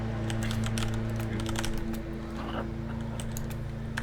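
Rapid keystrokes on a computer keyboard while typing in-game chat during a League of Legends jungle match, steady clicking over a constant low electrical hum and game background noise.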